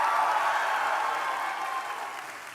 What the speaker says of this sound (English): Let's give them a big round of applause, shall we?